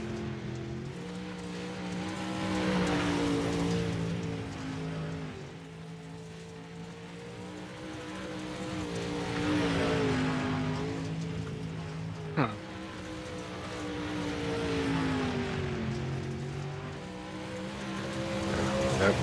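Race cars lap a dirt track, engines swelling and fading in long passes as they sweep by, with a sharp brief crack midway and a few faint voices.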